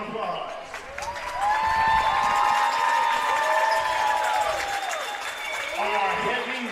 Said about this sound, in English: Ladies and gentlemen, let's give both teams a big round of applause.